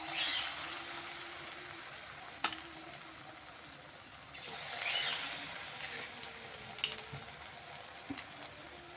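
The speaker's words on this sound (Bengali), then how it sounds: "এখন আমি এই ব্যাটারেগুলো এক এক করে ঝিঙে ভেজে নিচ্ছি।" Batter-coated ridge gourd slices deep fry in hot oil, a soft steady sizzle with occasional pops and a brief louder surge as another piece goes in.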